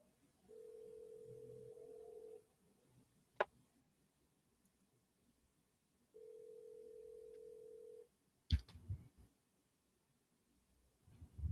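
A telephone call ringing out before going to voicemail: two long, steady ringback tones separated by a pause, faint and alone, followed by a brief click.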